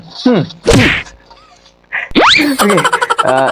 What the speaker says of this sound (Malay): kita tampar dulu muka dia